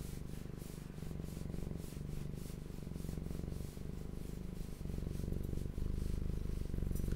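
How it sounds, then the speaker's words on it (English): A cat purrs steadily and close up, a continuous rumbling drone with faint rhythmic rubbing, no voices. "He's not even purring that loud,"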